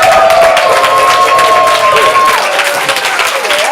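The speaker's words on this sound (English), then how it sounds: "I need you to yell, clap, shout, hoot and holler, make a bunch of noise" Audience at a ComedySportz Portland improv comedy show yelling, clapping and cheering, a loud dense burst of crowd noise close by with a few voices rising above it.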